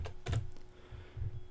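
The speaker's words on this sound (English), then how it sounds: "since I'm creating a blurb, I'll start typing blurb" A few soft, close keystrokes on a computer keyboard with quiet pauses between, typed while building a web page section in the Divi theme.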